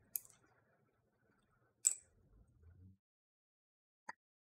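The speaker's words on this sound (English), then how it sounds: "double click." A computer mouse double-click, heard as sharp, faint ticks in a quiet room: a tick at the start, a louder pair near the two-second mark, a soft rustle, then one more lone click near the end.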